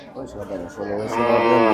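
Cattle at a busy Bangladeshi cattle market let out a drawn-out, rising moo, heard close and fairly loud while people talk around it.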